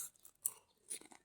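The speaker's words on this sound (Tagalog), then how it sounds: "Pangalawang kagat." Homemade fishball being bitten and chewed close to the mic, with a few soft, wet crunches and mouth sounds over about a second, no talking.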